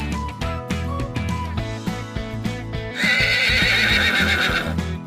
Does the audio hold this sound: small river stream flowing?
no